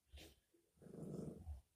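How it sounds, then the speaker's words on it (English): A dog growls softly and briefly, low rumbling with a short snort and breathy noises, quiet and close, with no talking over it. "He gets in a growling mood when you try to chew him."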